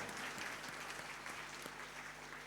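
A church congregation at a Christmas Mass claps in a steady, faint, distant round of applause over a low background hum.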